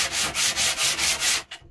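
Wooden dowel slingshot rubbed by hand on sandpaper over a flat sanding pad, giving six close rhythmic scraping strokes in steady back-and-forth succession before stopping.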